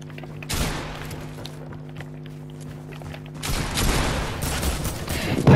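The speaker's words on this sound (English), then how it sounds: "He's trying to shoot you." Bursts of gunfire in the Fortnite video game, a sharp burst at the start, a steadier stretch of firing over a low hum, then a louder, busier volley near the end.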